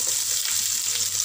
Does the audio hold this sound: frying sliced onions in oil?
yes